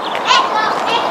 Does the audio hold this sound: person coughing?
no